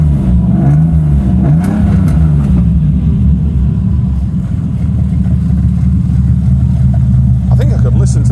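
TVR Tamora sports car, a 350 bhp model, revving repeatedly at close range with a loud, steady low rumble that swells in rising and falling pulses throughout.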